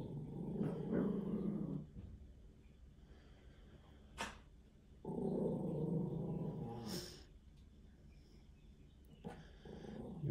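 A female dog growls up close at a person disguised in sunglasses and a cap: two long, low, rumbling growls, each about two seconds, with a short sharp noise between them and quieter breathing in the gaps.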